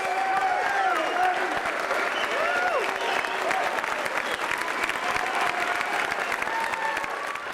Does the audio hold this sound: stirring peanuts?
no